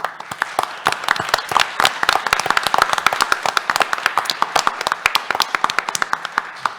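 A modest crowd gives a round of applause for event staff at a national security conference: sharp, distinct hand claps at close range, steady and fairly loud, lasting about seven seconds with no talking.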